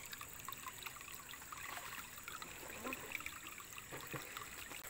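Water trickles and streams steadily in a rural provincial setting near a spot with sacks of rubbish, a continuous soft outdoor flow with no talking.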